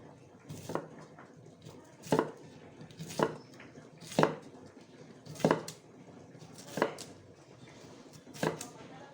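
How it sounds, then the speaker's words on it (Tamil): A knife chops through cucumber on a board, seven sharp, evenly spaced cuts roughly a second apart, close and clear over quiet background. "இப்போ நம்ம வெள்ளரிக்காயை கட் பண்ணி எடுத்துக்கலாம்."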